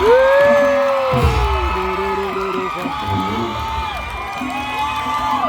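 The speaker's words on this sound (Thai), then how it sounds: "ท่านกรี๊ดท่านปรบมือ" An audience at a Thai likay performance cheers and shrieks excitedly in a loud crowd roar that carries on throughout, with voices rising above the din.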